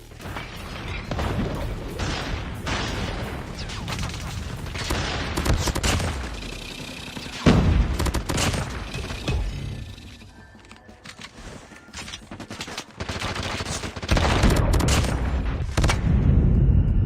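Gunfire in the mobile shooter Apex Legends Mobile, with dense, overlapping bursts of rapid shots and booming impacts filling the whole stretch, loud and close, dipping briefly in the middle before heavy firing resumes.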